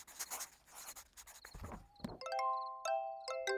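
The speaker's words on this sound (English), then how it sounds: "What is this? A silver star bell." A silver star bell chimes in the video game Little Witch in the Woods, ringing out as several clear, sustained bell tones that linger over soft game sounds after some scratchy writing noises.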